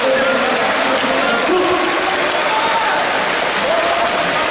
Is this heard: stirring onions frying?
no